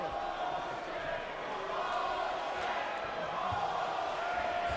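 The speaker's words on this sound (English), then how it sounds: "the crowd is starting to get on them" A crowd at a boxing match murmurs and stirs restlessly while two fighters spar, a continuous broad roar of many voices heard from a distance, with no single shout standing out.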